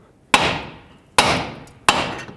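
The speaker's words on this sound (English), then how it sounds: "Use a hammer, hammer right on the knuckle, and break the tie rod free from the knuckle." A hammer striking a steering knuckle on a 2001-06 Toyota Camry to break the tie rod free, three sharp metallic blows spaced about a second apart, each ringing out and fading, with no talk.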